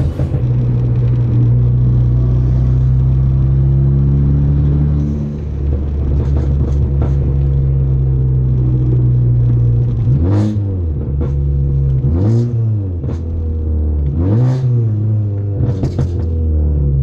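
A car's exhaust drones loudly and continuously while driving, with a low steady hum that rises and falls as the engine revs.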